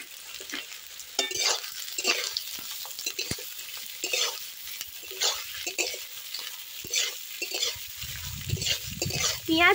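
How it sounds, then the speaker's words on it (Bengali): Chopped onions fry in plenty of mustard oil in a wok, a steady sizzle broken by repeated scraping stir strokes and light utensil clinks, with a deeper bubbling surge near the end. "এবার আমি কুচিয়ে রাখা পেঁয়াজগুলোকে দিয়ে দেব।"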